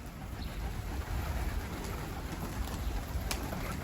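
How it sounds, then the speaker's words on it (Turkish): Morning pigeons flown from a loft, with soft cooing and a few wing flaps over a steady outdoor background rumble, faint and distant. "Sabah sabah kuşlarımızı uçurduk."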